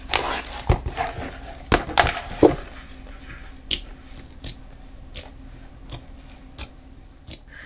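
Bubbly homemade slime is squeezed and handled up close, giving a series of sharp crackling pops and squishes that come in quick clusters early and then thin out into sparser clicks.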